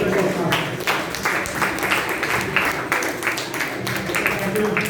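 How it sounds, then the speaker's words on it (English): Audience applause at a Toastmasters meeting, a steady patter of clapping from a room of people continuing throughout, moderately loud. "give a big round of applause to all the Toastmasters"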